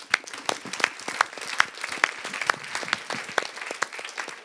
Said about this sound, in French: on peut applaudir tout le monde